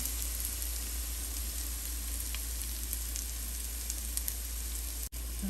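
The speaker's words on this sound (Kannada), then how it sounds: "ನೋಡಿ ಎಲ್ಲ ಈ ಥರ ಚೆನ್ನಾಗಿ ಅದು ಕಮ್ಮಿ ಉರಿಯಲ್ಲೇ ಫ್ರೈ ಆಗಬೇಕು." Bitter gourd slices fry in a pan over a low flame, giving a steady, close sizzle and crackle that runs unbroken throughout, with no voices.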